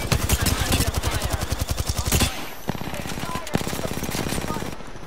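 Video game gunfire in Apex Legends comes in rapid automatic bursts, a dense string of shots followed by scattered shots and impacts, with a voice talking over the action.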